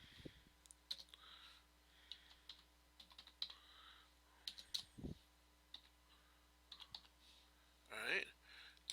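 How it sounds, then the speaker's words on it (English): Typing on a computer keyboard as a date is entered in numbers: quiet, irregular key clicks and taps in short bursts throughout, with a louder cluster near the end and faint room noise underneath. "You're just going to type in the date in numerical form."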